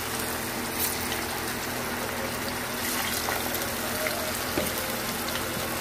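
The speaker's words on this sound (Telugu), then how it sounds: "డీప్ ఫ్రై చేసుకోవాలన్నమాట." Gobi 65 cauliflower pieces deep frying in oil make a dense, steady bubbling hiss up close, unbroken for the whole stretch with no talking.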